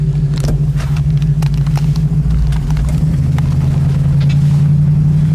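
A 1966 Ford Mustang coupe engine idles with a loud, steady low rumble and a smooth, even hum, close by, with light mechanical ticks over the top.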